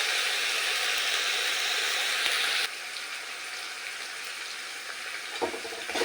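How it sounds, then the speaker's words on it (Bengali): Ginger paste fries in a hot pan with a broad, steady sizzle and hiss that drops in loudness partway through, with a few soft scrapes of stirring near the end and no voices. "ভালোভাবে বাটাটা এক মিনিট নেড়ে নিয়েছি"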